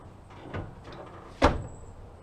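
A door on a 1991 Oldsmobile Quad 442 under collision repair shuts. A faint knock comes first, then one sharp, solid thud, close and alone.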